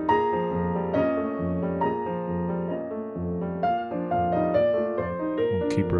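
Concert grand piano captured with an ambisonic microphone, carrying the room's ambience: a continuous flow of chords and melodic notes, full and resonant with a sustained reverberant tail, heard alone without talk.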